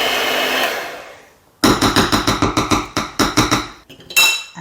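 Electric hand mixer whirring as it works poppy seed filling for Mohnkuchen, fading out, followed by a quick series of sharp rhythmic taps and clinks as the beaters are knocked against the bowl.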